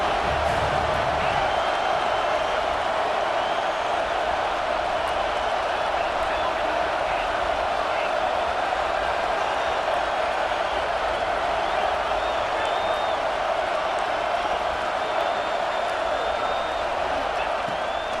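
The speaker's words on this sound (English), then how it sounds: "This crowd knows when to bring it." Simulated stadium crowd in EA Sports College Football 26 keeps up a steady, dense roar of cheering through the whole stretch, loud and continuous with no breaks, heard alone without clear talk over it.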